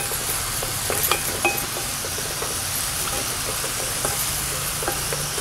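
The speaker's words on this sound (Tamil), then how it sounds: "உப்பு போட்டு வதக்கிக்கோங்க" Onions sauté with salt in a pan, giving a steady low sizzle with occasional light clinks of a spoon against the metal, no talking.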